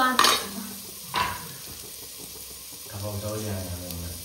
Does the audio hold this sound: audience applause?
no